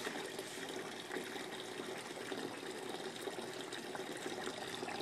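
Water streams steadily from a hole in a one-gallon jug into a catch bucket and is pumped back through a plastic tube, a continuous gushing splash with no break, moderately loud and with no voices.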